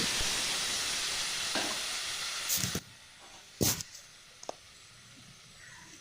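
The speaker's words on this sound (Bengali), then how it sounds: "এখন আমি মাছটাকে দিয়ে দিচ্ছি" Hilsa fish dropped into hot mustard oil tempered with black cumin, giving a steady loud hiss that softens after a few seconds, with a few sharp spits and crackles breaking through.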